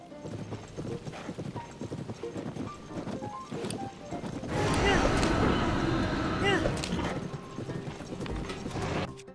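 A horse's hooves clip-clop at a gallop in the video game Zelda: Tears of the Kingdom, a rapid pounding that swells louder midway, joined by game effects with a voice speaking over it.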